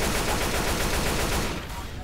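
Sustained automatic gunfire in a Rainbow Six video game, a loud rapid rattle of overlapping shots that tails off toward the end, without speech.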